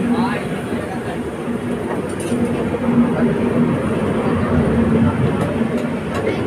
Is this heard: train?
yes